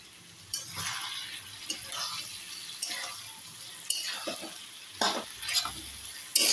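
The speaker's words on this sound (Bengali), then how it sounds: "3-4 বার ঢাকা দিয়ে দিয়ে ভাজবো।" Jackfruit curry frying in a covered pan: soft sizzling under repeated stirring scrapes and occasional metallic clinks, close by and fairly quiet, with no talk.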